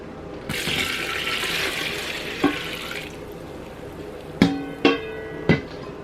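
Pickle solution is poured over cucumbers, a bright splashing stream for a few seconds that stops, followed by several sharp knocks of containers or utensils.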